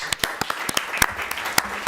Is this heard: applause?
yes